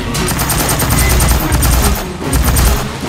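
Rapid sustained automatic gunfire from the video game Aliens: Fireteam Elite in horde mode, a dense loud stream of shots with short pauses, close and dominant.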